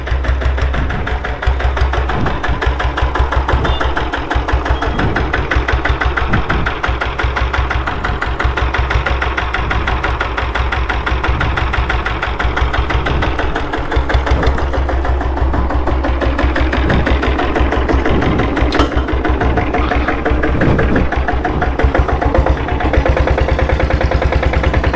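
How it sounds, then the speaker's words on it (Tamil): A Royal Enfield Diesel Bullet motorcycle engine idling at slow speed, a loud, steady low thumping beat with a fast knocking rhythm that runs unbroken throughout, close to the machine and with no voices. "வண்டி engine noise slow speed check பண்ணிக்கங்க எப்படி"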